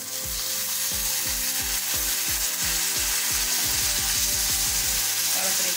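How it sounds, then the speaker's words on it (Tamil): Spinach greens sautéed in a pan for palak paneer, with a loud steady sizzle under a rapid series of rhythmic scraping clicks from the spatula, close and without speech. "நல்லா வதக்கிடலாம் கீரை போட்டுக்கலாம்"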